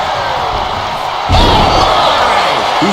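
A wrestler slammed with an STO in the WWE 2K25 video game lands as one loud, heavy impact partway through, over steady crowd roar that swells afterward.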